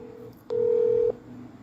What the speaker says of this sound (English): I didn't realize the phone rang.